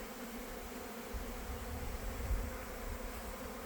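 Honey bees buzz in a steady, continuous drone as they fly around outdoor hive boxes in autumn, a low hum that stays fairly even throughout with no voices.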